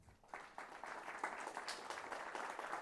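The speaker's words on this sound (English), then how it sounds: "Please give them a round of applause." Audience applause builds quickly from near silence into steady, dense clapping that holds at an even level throughout, a room of people clapping together.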